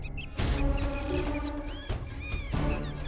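An electronic predator call plays a cottontail rabbit distress sound outdoors in South Dakota, loud, shrill squealing cries in repeated bursts separated by short pauses.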